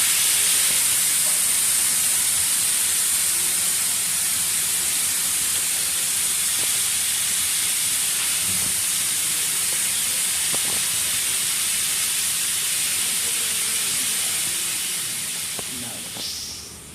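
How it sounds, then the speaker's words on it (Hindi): A pressure cooker of daliya vents steam in a loud, steady hiss right up close, holding for many seconds before tapering off at the end. "मैं प्रेशर कुकर को खोलती हूँ।"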